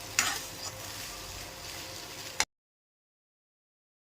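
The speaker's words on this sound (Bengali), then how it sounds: "পেঁয়াজের সাথে একসাথে সস টস দিয়ে ভালো করে নেড়ে নিলাম পাস্তাটা" Pasta with onion and sauce is stirred in a hot pan, a close, soft sizzle with scraping stirs that stops abruptly.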